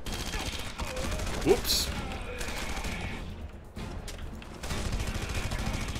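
Gunfire in Red Faction Guerrilla, a series of rapid shots and bursts with a sharp loud crack midway, a brief lull, then more firing; someone briefly speaks.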